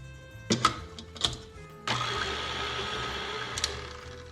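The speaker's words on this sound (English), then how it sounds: "There's obviously no need for the mixer for that because such a small amount of dough, it's very soft, but it's just to get there a little faster" An electric mixer kneading a small batch of soft panettone dough made with yeast and flour gives a few clattering knocks, then starts up into a steady whirring motor hum close by.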